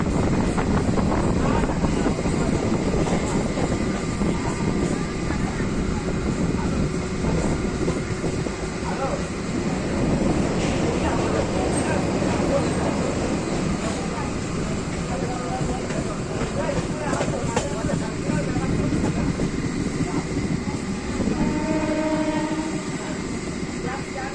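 A Howrah to Amta electric local train rumbles along the tracks continuously, loud and close, with a steady low roar and faint rattling throughout.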